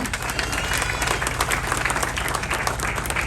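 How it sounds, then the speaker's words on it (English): Audience applause at a light-rail track completion ceremony for the Foothill Gold Line, steady dense clapping from a crowd lasting the full few seconds without a break. "big round of applause to all of you too"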